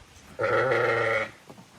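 A single loud, close bleat from a sheep among a flock of sheep and lambs, held for nearly a second, then a faint murmur.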